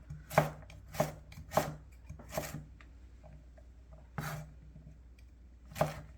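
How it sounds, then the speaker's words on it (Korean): Chestnuts are sliced and split with a knife on a cutting board, giving several sharp, separate chops spaced about half a second to a second apart, close but fairly quiet, with a pause midway. "슬라이스 치는데 조금 굵은 거는 한 번씩 반씩 쪼개줘도 돼요"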